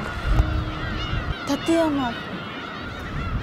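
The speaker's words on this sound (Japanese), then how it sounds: "すごいカモメがうるさいと思うんですけど、" Seagulls in a Japanese coastal town let out a few brief, wavering cries midway through, set against windy outdoor ambience while a person talks.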